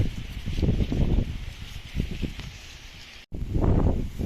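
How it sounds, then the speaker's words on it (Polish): Strong wind sweeps across a cornfield, producing gusty rushing and rustling along with heavy low buffeting on the microphone. The gusts surge and ease in loud waves, with a brief dropout near the end. "Ale wiatrzysko jest niemiłosierne."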